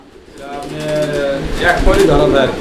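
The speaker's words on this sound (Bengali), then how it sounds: "এটা মিলি রেসার কবুতরের একটা জোড়া" A young pair of light-coloured Mili racer pigeons coos softly up close, with low rolling calls growing louder toward the end amid faint handling and shuffling noises.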